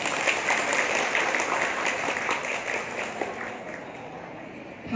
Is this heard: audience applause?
yes